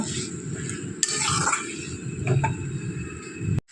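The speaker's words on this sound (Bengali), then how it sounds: "এবার মশলাটার সাথে এগুলো একটু কষিয়ে নেব।" Fried teasel gourd and potato pieces are stirred with spices in a pan, with a low sizzle under scraping and clinking of a spatula against metal, close and fairly soft.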